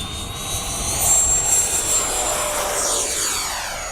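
A Freewing Avanti S RC jet spools up with a steady, loud rising whine and broad rushing roar, high tones sweeping upward as the throttle opens, close by with no talking.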